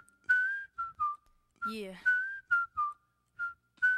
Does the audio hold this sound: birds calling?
no